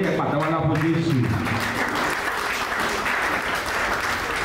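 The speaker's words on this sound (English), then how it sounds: "Let's clap our hands for Jesus." Church congregation clapping hands together at a wedding service, steady dense applause throughout, loud and close, with a voice speaking over the opening second.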